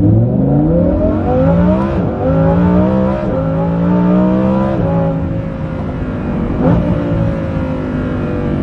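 A Lamborghini Huracán Performante's aftermarket Kline exhaust with factory valves roars loudly as it accelerates, pitch rising through several gears with brief dips at each shift.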